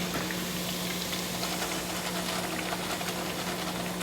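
Food fries in a pot of hot oil, a dense, steady sizzle and bubbling hiss close by, constant throughout with a faint low hum beneath and no speech.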